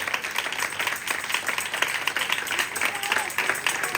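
A church congregation claps during a live sermon, with dense, continuous, fairly loud applause from many hands and a crowd murmur underneath.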